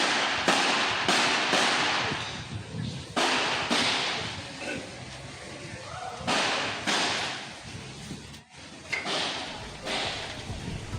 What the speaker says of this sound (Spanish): son disparos percutados por gendarmes